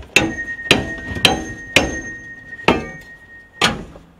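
A hammer drives a forcible entry bar into a door in six sharp, ringing metallic strikes at irregular intervals, loud and close, with no voices.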